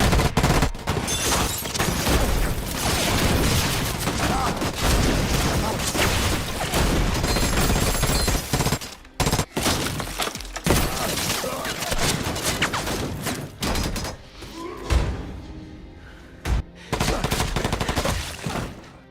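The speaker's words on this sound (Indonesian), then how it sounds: "langsung menyerang kantor polisi dengan tembakan" Gunfire erupts as a gang storms a police station in a film, with dense, sustained bursts and crashes filling most of the stretch, mixed with dramatic score and occasional talk, briefly dropping out before resuming.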